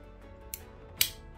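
The scissors on a custom Swiss Army knife snap shut, giving two sharp, close metallic clicks about half a second apart in an otherwise quiet space, the second louder than the first.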